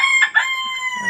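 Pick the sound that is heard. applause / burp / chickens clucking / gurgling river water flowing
chickens clucking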